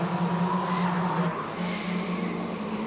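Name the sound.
tyre squealing of racing touring cars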